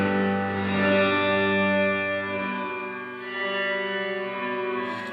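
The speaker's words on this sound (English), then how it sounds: "So as you can hear, that low cut knob really cuts out all the low frequencies." A Strymon NightSky reverb pedal on a guitar, heard fully wet with the low cut engaged: a thin, sustained shimmering wash with little bass, swelling and fading gently, with no voices.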